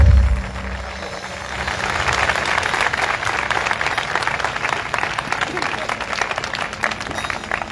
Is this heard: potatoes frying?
no